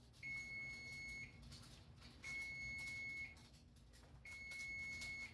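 A kitchen timer sounds for baking chocolate chip cookies, giving three long, steady high-pitched beeps at even intervals over faint room noise, with no speech.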